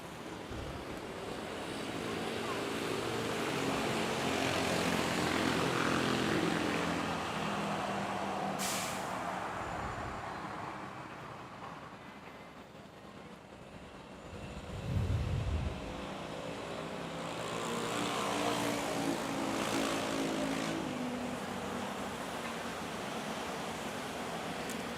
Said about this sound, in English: Oh, another Cebu Pack landing.